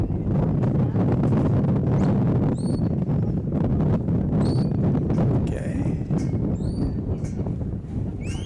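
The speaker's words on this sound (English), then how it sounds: "We're getting quite a wind through here." Wind rumbles heavily across the microphone at an outdoor cattle arena during a stock dog trial, a steady low roar, with faint bird chirps and scattered thumps in the background.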